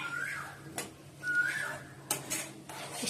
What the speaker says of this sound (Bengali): সকাল থেকে কোকিল ডাকছে